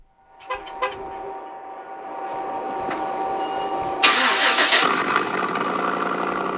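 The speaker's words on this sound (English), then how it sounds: "a video of my truck revving" A pickup truck engine cranks over and catches, then settles into a loud, close idle that climbs into a harsh rev partway through and holds at a raised roar.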